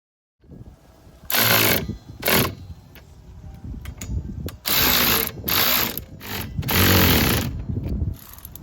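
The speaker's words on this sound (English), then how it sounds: "Time to test these wipers out right now." Windshield wipers on a Volkswagen Jetta GLI MK6 being tested after repair, giving repeated loud mechanical sweeps and thumps in an uneven rhythm over a low motor hum, close to the microphone.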